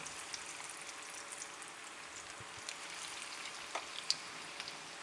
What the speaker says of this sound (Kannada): ಬಿಸಿ ಆದ ನಂತರ ಈ ಪನ್ನೀರನ್ನು ಅದರಲ್ಲಿ ಫ್ರೈ ಮಾಡ್ಕೊಳ್ಳೋಣ.